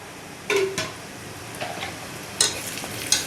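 Spices with asafoetida, turmeric and Kashmiri chili powder stirred and fried in a pan, heard as a handful of scraping, clattering spoon strokes against the metal over a faint low sizzle, with no voices.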